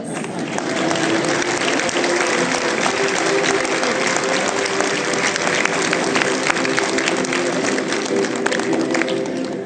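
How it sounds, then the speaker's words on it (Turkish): Steady, full applause from a ceremony crowd during a flower presentation, dense clapping continuing evenly throughout with some murmuring under it. "tekrar kuvvetli bir alkış istiyorum"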